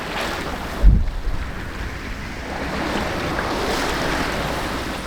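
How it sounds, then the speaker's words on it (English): A sailboat motoring across open sea toward a mainland marina, engine running under a steady broad wash of wind and waves with buffeting wind noise on the microphone and a brief knock near the start. "That's why the engine is on."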